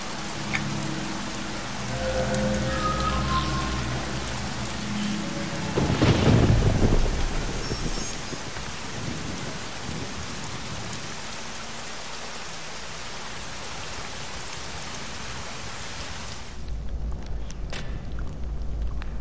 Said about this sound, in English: let's go ahead and unleash the storm